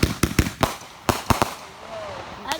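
Fireworks being shot off outdoors, several at a time: a rapid series of sharp, loud bangs and pops in uneven bursts, followed by a quieter tail with a faint whistle and one last pop.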